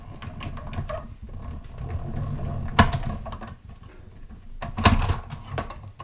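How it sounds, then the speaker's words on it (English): A hand-cranked die cutting machine feeds a paper card through its die, giving a steady close mechanical grinding with ratcheting clicks and two louder clunks. "So just lay that across and guide that back through the die cutting machine."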